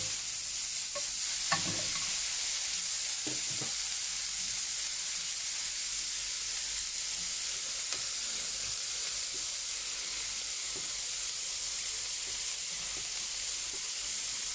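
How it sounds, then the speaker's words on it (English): Bacon dropped into a hot, dry pan for pasta carbonara hisses and sizzles steadily at close range, with a few soft clunks and stirring knocks early on before settling into an even fry. "I'm gonna drop in the bacon."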